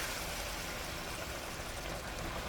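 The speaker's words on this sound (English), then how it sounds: "I'm gonna put my water in now" Hot water is poured into a cooking pot of tripe and beans, making a steady, even rush of splashing liquid that runs without break, fairly quiet and with no talking.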